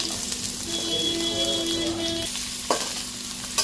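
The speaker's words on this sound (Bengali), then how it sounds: "এগুলো এবার ভাজবো। ফার্স্টে দেবো গাজর" Sliced carrots sizzle in hot oil in a wok, a continuous close frying hiss with a few faint tonal squeaks partway through and a soft clatter of stirring near the end.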